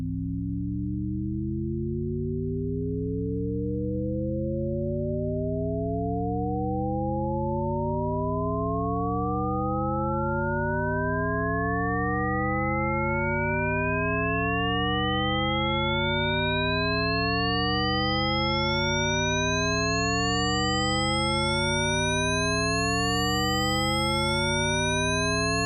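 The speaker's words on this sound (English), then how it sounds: "Shepard tones, named for him, are an aural illusion of continuous ascent or descent." Shepard tones made of octave-stacked sine waves faded in and out, a smooth electronic glide that keeps rising in pitch without seeming to reach the top, steady and alone for the whole stretch.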